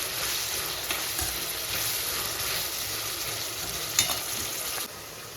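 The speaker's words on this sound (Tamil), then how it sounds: "அந்த சைடு குழம்புக்கு வெங்காயம் தக்காளி வதங்கிட்டு இருக்குது" Onion and tomato sautéing in a pan for kara kuzhambu, a steady close sizzle with occasional scraping stirs and a sharp clink near the end.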